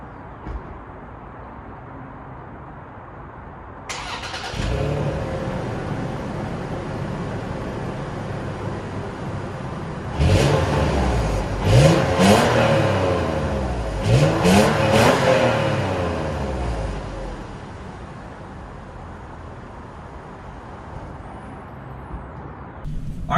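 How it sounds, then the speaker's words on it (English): A 2020 Toyota 4Runner TRD Off Road engine starts after a few seconds of quiet, then idles and revs as the SUV pulls away, with louder pulses of acceleration midway before settling into a steady drive. "let's hear it start up and take it on a drive"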